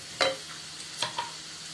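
Chili, cumin, garam masala, coriander and jaluk powders are stirred in hot oil for a fish curry, giving a faint sizzle. Three soft scraping stirs are heard over a quiet background.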